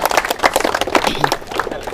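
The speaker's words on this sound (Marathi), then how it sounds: "दादासाठी जोरदार टाळ्या होऊ द्या" An audience at an MPSC quiz event at Disha Library, University Road, Amravati, claps loudly for a contestant. The dense, rapid hand claps run continuously for a couple of seconds.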